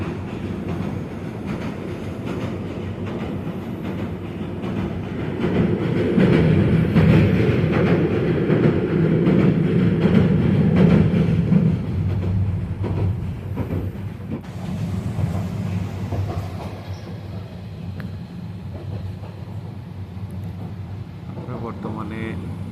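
A passenger train on the Dhaka to Cox's Bazar rail line rumbles along with a steady, loud clatter of wheels and carriage noise, swelling in the middle and easing toward the end.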